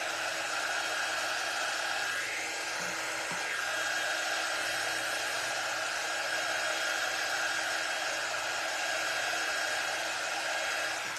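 A hair dryer blows steadily over a butterfly transfer, a loud, continuous whooshing hum that holds unchanged for about eleven seconds with no voices.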